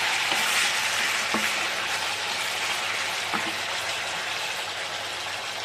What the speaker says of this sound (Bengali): তেল গরম হয়ে গেছে, চিকেনগুলো ছেড়ে দিচ্ছি।